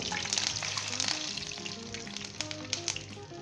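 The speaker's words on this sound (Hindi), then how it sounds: "अब हम इसके अंदर बीट किए हुए एग शामिल करेंगे।" Beaten eggs sizzle and crackle steadily in a hot wok for Chinese-style eggs and tomatoes, a continuous close frying hiss with small popping bursts and no talk over it.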